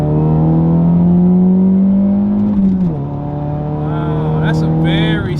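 A Saturn Ion Redline sedan accelerating hard, its engine drone rising steadily in pitch, dipping at a gear change around the three-second mark, then climbing again, heard loud and close from inside the cabin.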